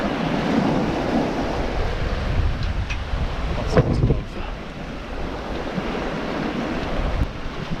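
Strong wind and rushing waves aboard a yacht sailing single-handed across the Atlantic, a loud continuous roar with surging swells and wind buffeting the microphone, no voices.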